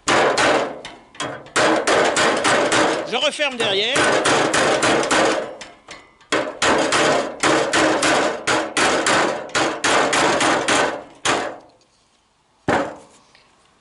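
Rapid, loud hammer blows ring out while a Xantia interior part is fitted into a Citroën Traction 11B, with metallic strikes in long dense runs, brief pauses and a short spoken aside.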